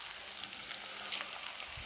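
Chopped onion with chilies fries in hot oil inside a cooker, giving a steady, bright sizzling hiss with scattered small pops, close by and unbroken, with no talk.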